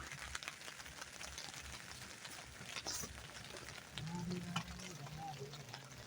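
Steady rain pattering on a camping tent on a family campsite in Hiroshima, Japan, a dense, even hiss of drops with brief low tones and a faint voice in the background.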